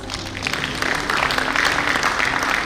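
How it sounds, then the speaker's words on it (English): Audience applause at a technical session of a national convention, steady and moderately loud clapping from a seated crowd that builds slightly after the first second and holds through the end. "Can we have a round of applause?"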